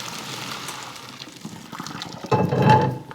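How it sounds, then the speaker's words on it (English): Water splashes and gurgles into a sink as homemade noodles are drained, swelling louder near the end as liquid is poured out and drains away. "So I'm going to just drain them in the sink."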